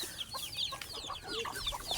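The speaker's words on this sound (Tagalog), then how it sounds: "Ayan, ito yung ating mga stock bird." Stock chickens cluck and peck while feeding on scattered grain at a backyard farm, with busy overlapping clucks and short calls from several birds nearby.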